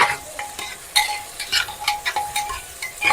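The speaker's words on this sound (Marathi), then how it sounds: "आता आपण हे जे 2 कांदे घेतले होते ते चांगले परतून घ्यायचे." Onions sizzle in a hot pan for masala rice while a spoon stirs and scrapes them around, a steady close frying hiss broken by clinking, scraping strokes, with no voices.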